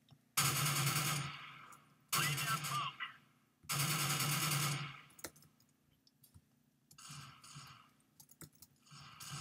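Bursts of rapid automatic gunfire from a gun in the Minecraft mod Minestrike, three long loud volleys followed by scattered shots, clicks and softer bursts.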